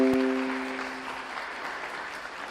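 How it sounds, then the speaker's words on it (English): Faint applause from an audience thanking Milwaukee firefighters after an accident, steady soft clapping that slowly fades, with a brief tonal ring at the start. "Can we give them a round of applause?"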